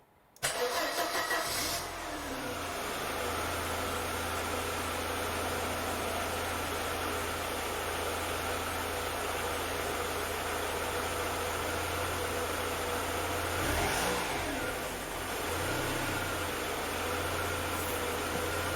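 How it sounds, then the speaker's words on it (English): A Mercedes W201 190E 2.0 engine cranks and catches after a fuel pump replacement, then settles into a steady, low idle hum that continues throughout. "The pump is actually working, and the car started"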